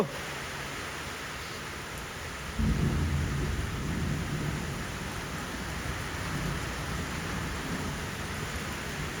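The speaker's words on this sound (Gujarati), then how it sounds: "વરસાદ આવ્યો બાપો બાપો" Steady rain falls outdoors while a deep roll of thunder breaks in suddenly and rumbles on, leaving a continuous hiss of rain with low grumbling underneath.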